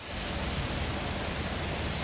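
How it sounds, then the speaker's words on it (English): Pouring rain on an East Tennessee fishing outing, a steady dense hiss of downpour that fills the short stretch without pause. "Pouring rain, but we gonna get on them"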